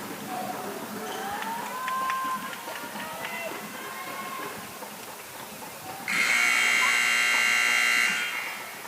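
A loud, sustained electronic buzzer sounds from a gym scoreboard as the timer runs out during a girls' 14U basketball Final Four game, cutting in abruptly after crowd noise and sneaker squeaks and holding steady for about two seconds.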